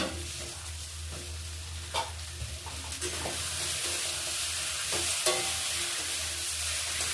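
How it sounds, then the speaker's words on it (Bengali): Fried potatoes stir-fried with spices in a karahi make a steady low sizzle, with a few sharper scrapes and clinks from the spatula against the pan. "ভাজা আলুটা মশলার সঙ্গে ভালো করে একটু কষে দিচ্ছি।"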